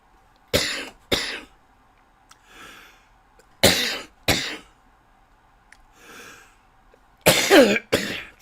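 A man with a cold coughs hard several times in sharp, loud bursts, pairs of coughs separated by quieter breathing and throat noise, ending in a longer choking, rasping cough.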